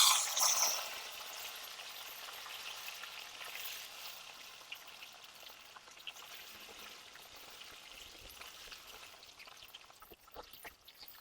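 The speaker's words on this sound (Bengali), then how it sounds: "এবার দিয়ে দিচ্ছি গাঁটটা গুলো, ভেজে নেব তেলে" Rajasthani gatte dumplings fry in hot mustard oil, starting with a loud bright sizzle that settles into a steady, quieter crackling hiss with occasional pops and no talking.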